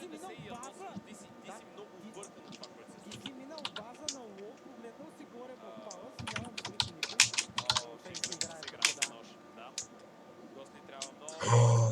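Rapid computer keyboard typing taps away in bursts, with clicky keystrokes during an esports stream. Caster commentary, crowd-like voices and game sounds play underneath, and a louder noise comes at the end.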